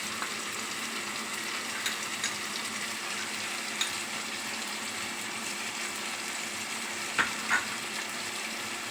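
Cumin powder sautéing in a pan, a soft, even sizzle with a few faint stirring taps, close but fairly quiet, continuous with no voices.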